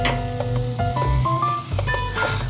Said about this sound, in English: Now I will add this sliced onion, and I will fry till these are golden brown.